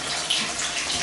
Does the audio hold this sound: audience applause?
no